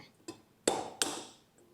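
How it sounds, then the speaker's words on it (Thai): Three eggs are cracked sharply against a hard edge while making traditional Thai egg cakes, three distinct crisp knocks spaced roughly a third of a second apart, close and clear in a quiet kitchen. "ตอนนี้นะคะเราจะตอกไข่สามฟองนะคะ"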